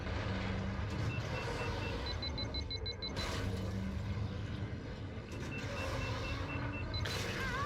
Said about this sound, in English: So this track has this dozer that moves back and forth on a timer